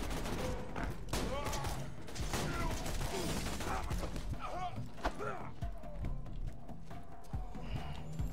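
Rapid gunfire rattles almost nonstop in the video game Borderlands 2, dense loud bursts of shots layered over a busy combat soundscape, with voices faintly mixed underneath.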